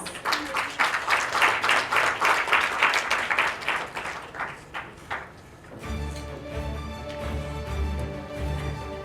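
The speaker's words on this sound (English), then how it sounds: "Please welcome them with a round of applause" An audience at a report launch claps to welcome officiants to the stage, a strong burst of clapping that thins out after about five seconds as music with a steady beat takes over.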